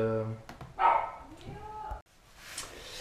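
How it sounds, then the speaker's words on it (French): A pet dog indoors barks and yips a few times close by, mixed with a man's speech. "c'était mon chien là"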